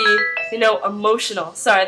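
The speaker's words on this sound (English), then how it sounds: "that was my phone" A mobile phone ringtone plays a loud, close melodic sequence of bright electronic tones, with a few words of speech at the start.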